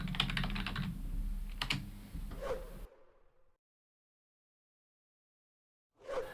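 Quick typing on a computer keyboard while renaming an Office Script in Excel, a close run of rapid clicks that stops, falls silent, then resumes briefly with no talking.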